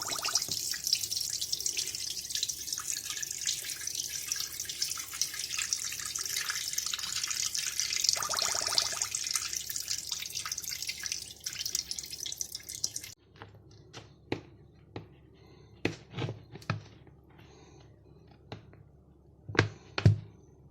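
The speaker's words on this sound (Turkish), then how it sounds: "Şimdi acı suyunu çıkarıyorum." Water from brined olives drains away for sweetening, a steady close trickle and pour that suddenly stops, followed by scattered drips and small splashes.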